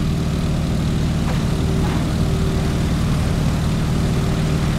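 A Stearman biplane's propeller engine at full throttle in Microsoft Flight, a steady loud droning roar holding throughout with no pauses.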